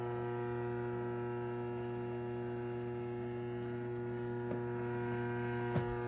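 A faulty doorbell gives off a steady, faint electrical buzz that drones on unchanged, with only a couple of tiny clicks.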